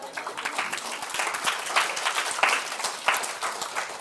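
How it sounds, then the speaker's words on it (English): A small crowd at an Asian American forum applauds Andrew Yang steadily for a few seconds, scattered claps blending into a continuous patter, moderately distant. "That's an applause line, come on, a little love."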